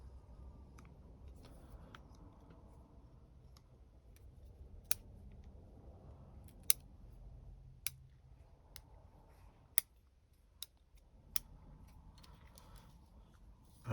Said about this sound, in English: So let's kind of trim these.